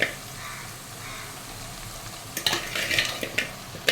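Tomatoes simmering for crab curry while a ladle presses and smashes them in the pan, a low steady sizzle that turns into a burst of wet scraping and clattering knocks near the end, without speech.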